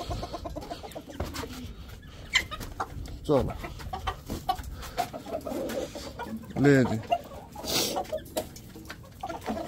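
Desi chickens, including Blue Orpingtons, cluck and squawk nearby, with occasional louder calls, while a person speaks briefly over the birds.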